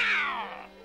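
Cartoon cat yowling in a Smurfs episode, a single loud, drawn-out meow sliding downward in pitch over under a second, alone with no talk.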